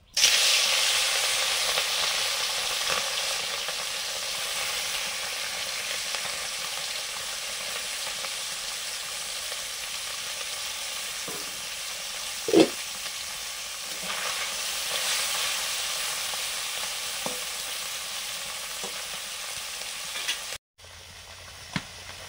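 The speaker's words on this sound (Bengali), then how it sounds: "সরষের তেল, মাছগুলো ভেজে নিচ্ছি।" Small koi fish fry in hot mustard oil with a steady, bright sizzling hiss that barely changes, broken by a few sharp pops; no one speaks.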